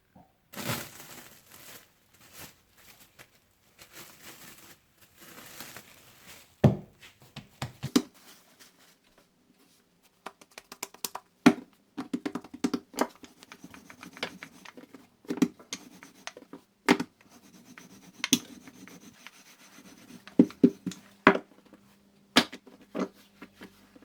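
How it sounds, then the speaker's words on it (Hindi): Puff pastry dough being rolled out into a rectangle on a flour-dusted work surface, giving intermittent soft rubbing, scraping and tapping sounds in irregular bursts, close and fairly quiet, with quieter stretches between strokes. "आप अपनी वर्किंग सरफेस पर मैदा छिड़ककर इसे रेक्टेंगुलर शेप में रोल कर लें"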